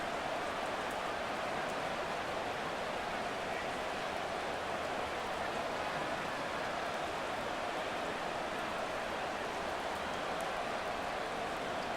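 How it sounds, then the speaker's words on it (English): Steady rain pours over a stadium during an Eagles versus Cowboys football game in Madden 24, a dense, even hiss that holds without a break for the whole stretch. "The rain making this treacherous"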